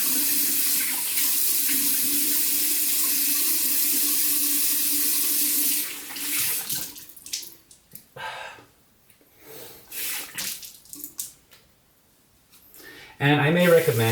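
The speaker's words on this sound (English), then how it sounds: "So rinse out with cool water." A tap runs steadily into a sink as a straight razor is rinsed with cool water after a shave, a continuous hiss that stops partway through, followed by brief splashes, snorting breaths and faint movement, then a short burst of water at the end.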